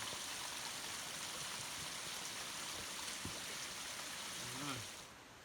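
Mountain creek water rushing steadily through foggy terrain in New Zealand, a continuous broad hiss of flow that holds at an even level, then drops slightly near the end.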